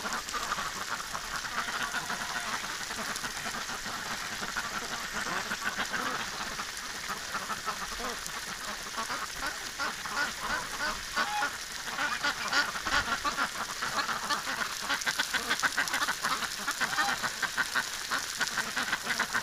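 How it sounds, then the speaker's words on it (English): Ducks quack steadily and busily outdoors in snow around a running garden hose, a dense continuous chorus of fowl calls over a constant hiss of spraying water. "Disco Duck is really going for it here."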